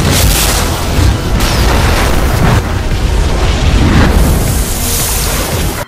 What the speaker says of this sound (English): The compressed gas exploded like a nuclear bomb.